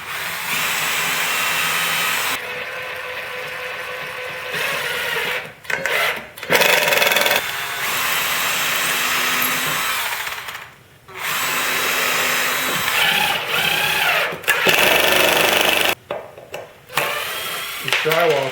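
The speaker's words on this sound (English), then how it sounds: "Just drill it out." A power drill bores a hole while building a rotary tool drill press, giving several bursts of whining motor noise broken by short pauses, close and loud, with no talking over it.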